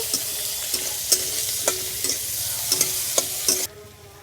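Masala of chopped onion, slit green chili and crushed garlic frying and being stirred in a pan, a steady close sizzle broken by regular scraping strokes of the spoon, then a sudden drop near the end.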